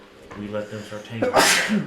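A single sharp sneeze bursts out near the end of a short stretch of talk, loud and close, breaking in just after a person finishes speaking.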